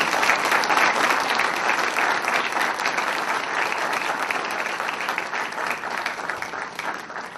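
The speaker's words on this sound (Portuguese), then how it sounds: "uma salva de palmas para ele, por favor" Audience at a formal solemn session honouring an industrialist of the year gives a round of applause, dense steady clapping filling the room for the whole stretch.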